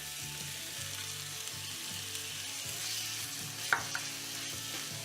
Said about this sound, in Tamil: தக்காளி வேகிற வரைக்கும் வதக்கிக்கலாம்.